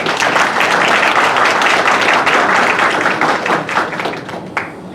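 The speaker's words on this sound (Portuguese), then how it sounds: "vamos receber com uma calorosa salva de palmas a secretária municipal de urbanismo, Carolina Baracá." A crowd at a municipal public hearing gives loud, dense applause as the city's urbanism secretary takes the stage. The clapping fades slightly toward the end, with a few stray claps.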